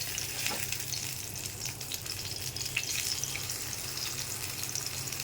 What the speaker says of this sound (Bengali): কম আঁচে ভাজতে হবে, বেশি আঁচে ভাজলে বেগুন ভাজা হবে না, মধ্যে শক্ত থাকবে